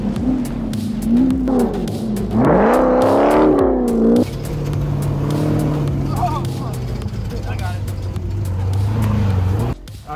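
Funco sand car with over 1000 horsepower in the Glamis dunes, its engine revving hard with rising and falling pitch sweeps, then settling into a loud steady drone, close by, with people talking over it.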